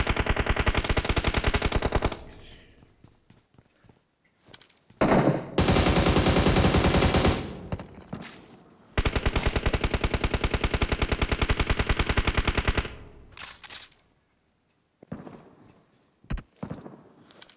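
MK-14 rifle fire in the BGMI video game comes in long, loud bursts of rapid shots, broken by short pauses and quieter gaps with a few scattered single shots.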